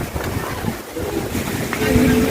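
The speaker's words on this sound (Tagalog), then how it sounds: "Grabe na po ang hangin." Strong wind from Typhoon Uwan in the Philippines buffets the microphone with a steady roaring rush, and a voice speaks faintly beneath it.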